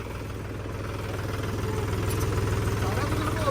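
A Mahindra 265 tractor idles with a steady, low rhythmic thrum, close and even throughout, rising slightly toward the end as some talk goes on nearby.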